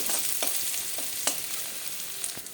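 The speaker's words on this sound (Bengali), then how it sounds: "কাঁচা লঙ্কা পেঁয়াজটাকে একটু ভাজা ভাজা করে নেব" Chopped onion and green chili fry in a pan for chirer poha, a steady close sizzle broken by a few sharp spatula scrapes and taps, with no talk.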